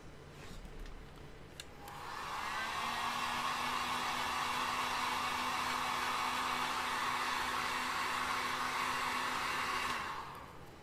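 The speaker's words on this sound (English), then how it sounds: "See a heat gun." A heat gun blows hot air while a helmet is being made, a steady loud broadband whoosh that starts about two seconds in, holds for eight seconds with a faint constant hum, then cuts off.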